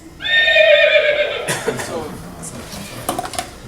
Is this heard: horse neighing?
yes